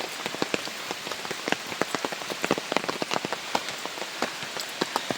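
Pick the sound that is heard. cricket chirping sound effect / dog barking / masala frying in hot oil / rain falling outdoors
rain falling outdoors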